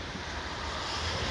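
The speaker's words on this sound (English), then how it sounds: "water is flowing fast and high" River Don in Sheffield running fast and high in the rain during a 2024 flood, a steady loud rushing roar of water mixed with wind noise, continuous with no voices.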